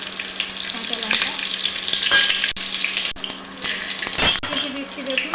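Fennel seeds, whole cumin and chopped green chili frying in hot oil, a close crackling sizzle with stirring and a few sharp clicks, swelling and easing over several seconds.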